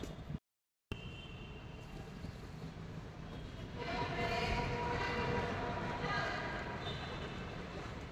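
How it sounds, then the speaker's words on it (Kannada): A metro train approaches a Bengaluru metro station platform, its rumble and rising rail noise swelling midway and holding steady, with the station's ambient roar and voices nearby. "ಸೈಡ್ ಮೆಟ್ರೋ ಬರ್ತಾ ಇದೆ ಗಾಯ್ಸ್"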